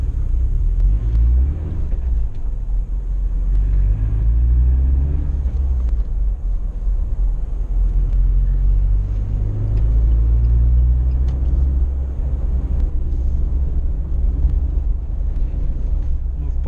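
A 2019 UAZ Patriot SUV moving through city traffic, heard from the cabin as a loud, continuous engine and road rumble with rising and falling tones as it accelerates.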